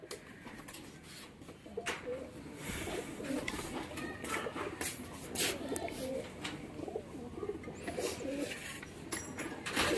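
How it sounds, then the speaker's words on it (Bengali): Red border desi Giribaz pigeons coo repeatedly at close range, soft throaty calls recurring over steady low background noise, with occasional sharper chirps and faint wing rustles. "বন্ধুরা, এখানে একটা পায়রা দেখুন"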